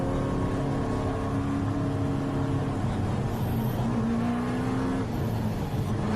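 Improved Production race cars in a Western Australian race idle and rumble as they line up for a restart, a steady engine drone with pitch shifts as the cars creep forward.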